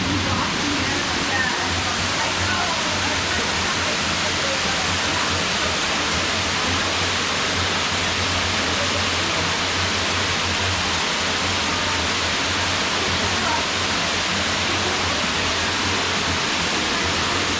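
Waterfall and stream at Makamakaole Stream roar as a loud, steady broadband rush close by, unbroken for the whole stretch.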